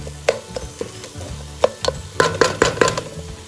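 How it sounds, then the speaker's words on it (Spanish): Shrimp sofrito for Mexican-style camarones cooking in a pan, with a steady sizzle broken by several sharp clacks of a utensil stirring and scraping, close and fairly loud, no talking. "Así va nuestro sofrito de nuestros camarones"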